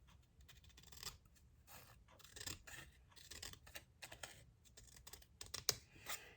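Scissors cutting scrapbooking paper in a quiet room, a series of short crisp snips and rustles in irregular bursts, close and fairly soft, no speech.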